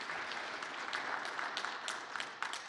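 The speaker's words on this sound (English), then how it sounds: "Let's give our panelists another round of applause this morning." An audience claps for a morning panel of speakers, a dense, even patter of many hands close by with no voices over it.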